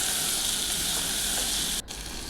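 Tomato pieces sizzle steadily in hot oil as they are stirred into a ridge gourd dal, a loud, continuous frying hiss that breaks off briefly near the end.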